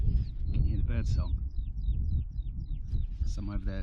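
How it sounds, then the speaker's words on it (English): Woodland birds on Dartmoor sing in short repeated chirps and whistled notes, some bright and near, over low rustling and speech-like background sounds at a wild camp. "Can you hear the bird song?"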